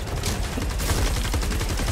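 An automatic gun in a video game fires in a rapid, continuous stream of loud, close shots with a steady rhythm throughout.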